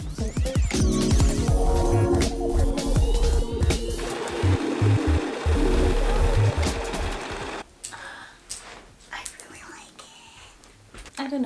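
A sewing machine runs steadily for several seconds, stitching a finished sleeve into a garment's armhole, then stops, leaving quieter handling noises and faint background sound.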